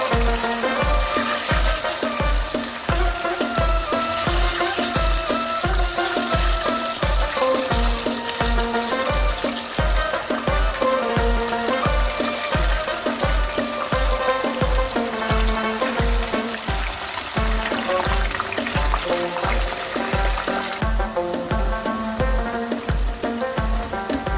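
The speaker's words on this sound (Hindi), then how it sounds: "तो ये भी मैं फ्राई कर रहा हूँ।" Thin potato slices for aloo katliyan deep-fry in hot oil, giving a steady, close, dense sizzle that runs throughout beneath a loud rhythmic music track with a regular beat.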